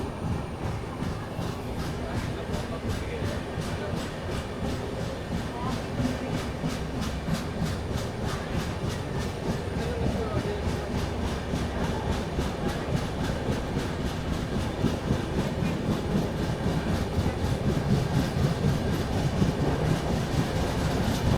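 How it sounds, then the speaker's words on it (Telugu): Riding aboard the 12077 Jan Shatabdi SuperFast Express after departure, a sustained rolling rumble carries a fast, regular clickety-clack of wheels over rail joints, gradually building in loudness, with no voices. "సో మన ట్రైన్ అయితే డిపార్ట్ అయింది ప్లాట్ఫామ్ నెంబర్ 4 నుంచి"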